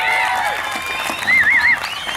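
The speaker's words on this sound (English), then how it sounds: "clap it up for Bo Bamber" A crowd applauds and cheers for Bo Bamber at a live show, with loud clapping, shouts and a rising, wavering whistle near the middle, all crowded together over a short burst.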